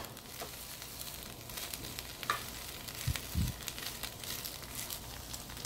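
Vegetables sizzle and fry in olive oil in a pan while being tossed and stirred, a steady quiet crackling hiss with occasional scrapes and clinks, heard close with no talking.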